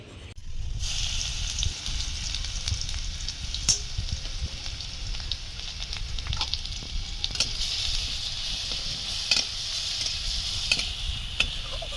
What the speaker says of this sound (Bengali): এবার আমি তেলের মধ্যে রসুনটা যে গ্রেট করে রেখেছিলাম দিয়ে দেব।